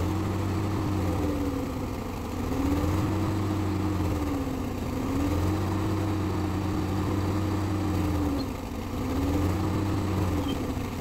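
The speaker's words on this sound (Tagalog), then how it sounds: "Papiluhin mo makina." Komatsu PC200 excavator engine, earlier submerged in a flood, running steadily and revving in a slow rising and falling cycle, close and continuous with no talk.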